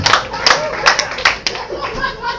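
Comedy club audience clapping at a stand-up show, a few sharp claps standing out over scattered laughter and murmuring from the crowd, fairly close.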